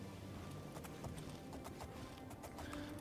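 A horse's hooves clip-clop in a rhythmic trot along a road in the video game Oblivion, fairly faint against a steady background wash, with no talking.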